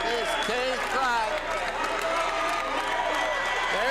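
A high school boys basketball crowd cheers and applauds after a two-hand dunk, a loud, continuous roar of voices and clapping with a commentator talking excitedly over it.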